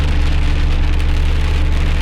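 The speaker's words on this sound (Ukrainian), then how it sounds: "Ну це не дощ, це така буря вже." Heavy storm rain pounds on a Gazelle van while it drives, a loud, dense, unbroken hiss and drumming over a low road rumble, with no one speaking.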